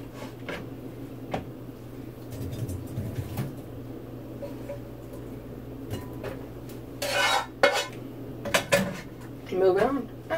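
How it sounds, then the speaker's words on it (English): Cooked baked butternut squash filling with sausage and apples being scraped into an enormous bowl: clinks and scrapes of a utensil against dishes, with a cluster of louder clatters toward the end over a low kitchen hum. "We're gonna get it into this enormous bowl."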